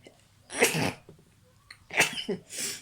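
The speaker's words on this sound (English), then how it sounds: "I need to sneeze" Two forceful sneezes up close, separated by a short breathy pause, with small nasal sounds between them.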